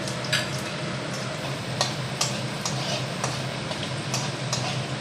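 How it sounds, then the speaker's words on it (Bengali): Whole tempering spices fry in hot oil for a rohu fish curry, giving a steady, soft sizzle broken by light clicks and scrapes of stirring. "এবার তেলের মধ্যে যে ফোড়নের মশলাগুলো আপনাদের দেখিয়েছিলাম সেগুলো দিয়ে দিচ্ছি।"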